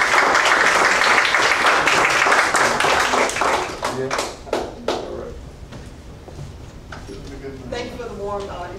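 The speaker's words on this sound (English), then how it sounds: "Please give me a warm round of applause." Rally crowd at an anti-TPP event in Orlando gives loud, dense applause for about four seconds; the clapping then thins into scattered claps and fades as a voice begins speaking.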